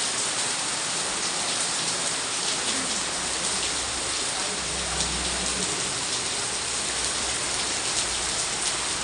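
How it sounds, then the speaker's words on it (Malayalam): Heavy monsoon rain pours steadily in Alappuzha, a dense continuous hiss of downpour on surfaces that stays loud and even throughout with no voices. "അത്ര ഹെവി റെയിൻ."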